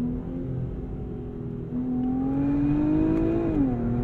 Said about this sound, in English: The thump from the exhaust on the downshift is satisfying.